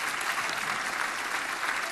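An audience applauds a singer on a Polish TV show: steady, dense clapping from a crowd, even and moderately loud for the whole moment, with no voices standing out.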